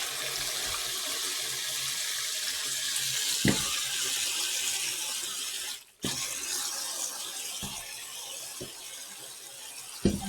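Kitchen tap water runs steadily into a container during brown stew pork preparation, a constant moderate splash broken by a few sharp knocks and clatters.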